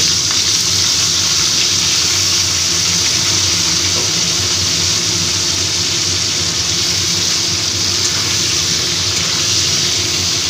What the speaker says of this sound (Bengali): ভালো করে সিম আলুটা ভেজে নিচ্ছি